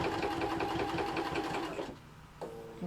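A sewing machine runs steadily, stitching binding around a vanity case, with a fast, close mechanical whirr that slows and stops briefly near the end.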